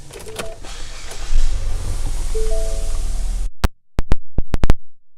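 Power windows in a 2016 Ford Fusion whirring as the glass moves, with engine hum underneath, then a run of sharp clicks from the cabin switches or locks near the end.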